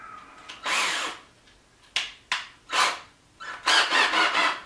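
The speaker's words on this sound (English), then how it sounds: "We are going to need our countersink bit." Several short bursts of power drilling with a countersink bit, whirring on and off with brief pauses, close and fairly loud, with no talking.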